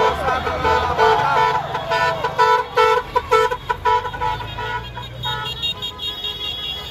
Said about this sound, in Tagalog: bumubusina yung mga motorista